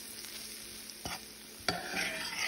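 Flour is stirred into cooked onions in a pan for a smothered chicken gravy: two brief scraping strokes, then a louder, steadier sizzle as the mixture cooks, fairly quiet and close.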